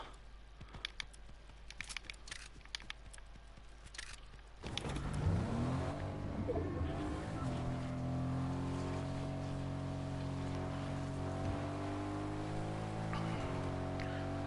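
A car in Fortnite starts up after a few clicks and taps, then its engine settles into a steady, droning hum that holds to the end.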